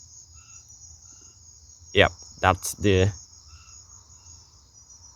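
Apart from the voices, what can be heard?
rattling calls of polka dot tree frogs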